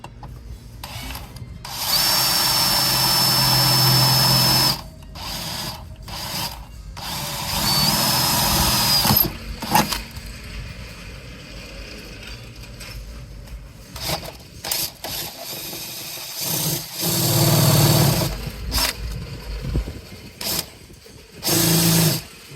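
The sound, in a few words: power drill drilling into sheet metal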